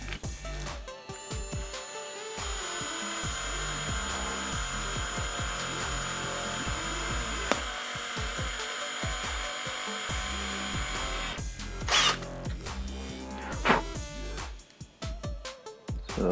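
A power drill bores a hole through the lens of a pair of glasses, a steady whining drone that runs unbroken for most of the time, then falls off in a few short bursts near the end.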